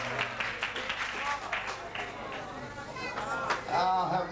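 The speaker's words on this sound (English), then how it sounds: "Somebody clap your hands and give God a hand" A church congregation claps along during a Sunday service, a steady dense patter of many hands with voices and chatter mixed in, fairly close and continuous throughout.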